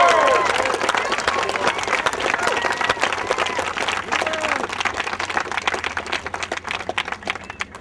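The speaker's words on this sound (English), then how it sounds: "So a round of applause again." Audience applause on the set of a home-makeover television build, a dense, loud wash of many hands clapping that carries steadily for the whole stretch, tapering slightly near the end.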